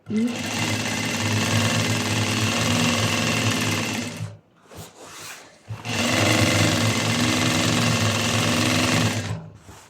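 A Juki sewing machine runs loud and steady in two long bursts, with a brief drop to quiet in the middle before the motor picks up again.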